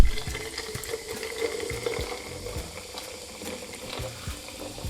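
Soda water pours over ice into a raspberry lemonade mocktail, a steady fizzing and trickling with faint ice clinks, close and continuous.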